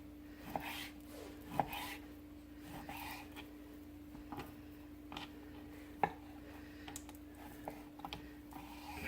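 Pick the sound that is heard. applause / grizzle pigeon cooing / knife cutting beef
knife cutting beef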